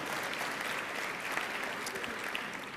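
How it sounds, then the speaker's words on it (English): A jazz forum audience gives sustained applause, a dense, even wash of clapping with no voices over it. "Give all of them another round of applause."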